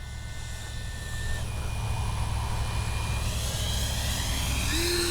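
A Freewing 70mm F9F-5 Panther RC jet with landing flaps down makes a slow pass, its ducted-fan whine steady and fairly close, rising slightly in pitch near the end.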